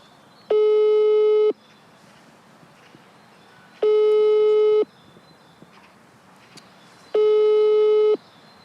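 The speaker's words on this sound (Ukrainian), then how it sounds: "Абонент не відповідає. Будь ласка, зателефонуйте пізніше." Telephone busy signal from an unanswered call: three long, steady electronic tones about a second each, separated by roughly two-second pauses, loud and clear over faint background hiss.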